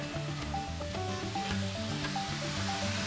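Vegetables with mushrooms sautéing in a pan for a quesadilla filling, a quiet steady sizzle with faint stirring scrapes underneath, close and without talking.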